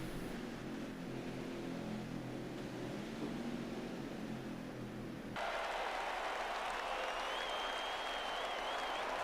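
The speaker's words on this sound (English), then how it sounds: "You hear the crowd on their feet." A loud, continuous roar of a large racing crowd cheering at Talladega as the green flag drops, swelling abruptly into a brighter, more intense wash of noise partway through.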